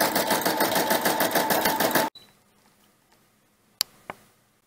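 A Brother SE-400 embroidery machine stitches lines of lettering in the hoop with a loud, fast, steady mechanical whir. It stops abruptly halfway through and is followed by quiet room tone and two short clicks.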